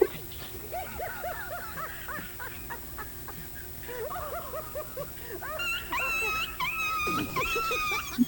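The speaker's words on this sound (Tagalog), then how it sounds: "galit na aso, o naiyak na, gutom na" A hungry dog whimpers and cries in a run of high, wavering whines and yips, moderately close, with a few faint voices in the background.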